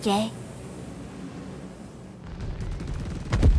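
Ballistic guns firing from a Drake Buccaneer fighter in Star Citizen, a rapid rattling burst rising near the end after a short tone and a stretch of low cockpit rumble.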